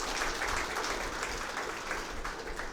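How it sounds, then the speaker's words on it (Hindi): A gathering of party beneficiaries at a tiffin meeting applauds, a soft, dense wash of many clapping hands heard from some distance, steady and unbroken. "आप लोग अपने लिए जोरदार ताली बजाइए"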